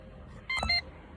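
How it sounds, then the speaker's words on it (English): A Holden Commodore VY/VZ dashboard gives a single short electronic beep during a service reset, sounding briefly over a quiet cabin. "You'll hear it beep."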